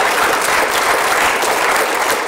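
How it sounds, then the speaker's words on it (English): A seated audience applauds itself at the close of a panel discussion on nuclear risks and benefits, a dense, steady wash of clapping hands that holds even and loud throughout without letting up. "thanks to all of you while you're clapping for yourselves"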